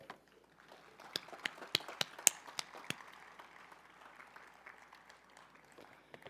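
Scattered applause at a college commencement ceremony, a handful of sharp claps rising briefly then thinning into sparse distant clapping, fairly faint.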